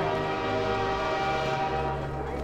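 Train in the video game Half-Life 2, a steady loud rumble with a sustained horn-like tone, close and constant throughout.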